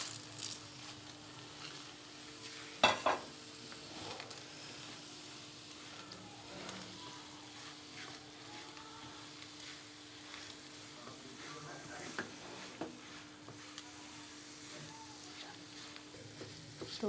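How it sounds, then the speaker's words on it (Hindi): A spoon stirs peanuts through a sweet rice pinni mixture in a pan, giving a soft, steady sizzle and scraping patter with a couple of sharper clinks near the start. "अच्छी तरह से चम्मच चलाते रहेंगे, साथ साथ इसको मिक्स करते रहेंगे। तो अब हम इसमें ऐड करेंगे पीनट्स।"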